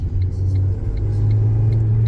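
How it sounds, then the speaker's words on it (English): A car's engine drones and rumbles steadily close by, a low sustained hum holding at an even level throughout, without any talking over it. "That car just cut you off."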